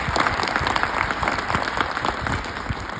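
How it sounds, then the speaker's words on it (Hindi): Dense, steady applause from a seated group of students clapping for mountaineer Arunima Sinha, many hands striking at once, loud and close, with no voices breaking through. "तो जैसे आपने ताली बजाई तो ताली कहाँ पहुंची?"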